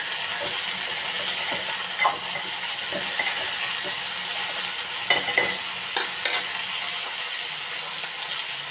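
Chopped ingredients for a chavalikay masala gravy cook in a pan with a steady soft sizzle, while a spoon stirs and knocks against the metal every so often, up close and without voices.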